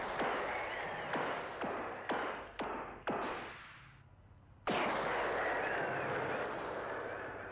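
Weapons fire in the Boss Constructor video game: a series of five or six heavy booming shots in rhythm, then a pause and one more long, echoing blast, loud and without talk.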